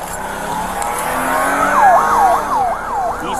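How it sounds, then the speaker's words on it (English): A stolen police car speeds off in a high-speed chase, its engine roaring loud and close as a wailing siren sweeps up and down repeatedly over the second half. "she just got in my car, took off"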